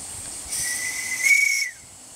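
A roundhouse live steam model locomotive built in 2004 gives one sustained shrill whistle lasting about a second, with steam from the open drain cocks hissing around it.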